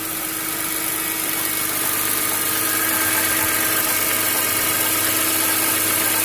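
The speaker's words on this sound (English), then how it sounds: "It's a random sound, almost like plastic, something banging plastic" A cold BMW E46 M3 with its S54 engine idles steadily and fairly loud, with a low continuous hum and irregular, faint plastic-like rattles and knocks scattered through it.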